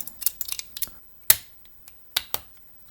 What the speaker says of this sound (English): I need to put this tension bar back in.